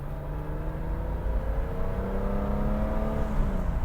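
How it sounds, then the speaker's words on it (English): A BMW with about 110,000 miles accelerating smoothly, a steady engine drone that rises gradually in pitch from inside the car, with no talking. "accelerates pretty smooth for the first few minutes"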